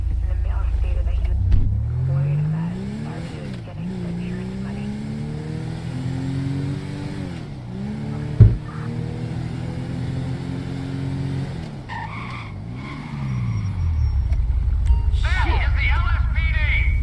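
A car engine revs up and down repeatedly with rising and falling pitch sweeps, a sharp bang midway, then skids and roars off, loud and close, with a person talking over parts of it.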